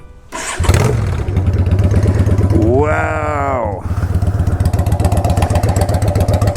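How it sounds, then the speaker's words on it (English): A loud straight-piped Yamaha V-Star XVS 650 motorcycle engine cranks, fires up and settles into a harsh, rapid, lumpy idle, with a brief exclamation from a voice and a rising whine midway. "This thing sounds so mean."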